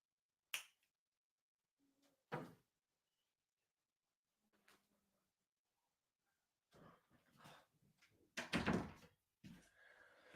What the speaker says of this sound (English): I think my cat's trying to break in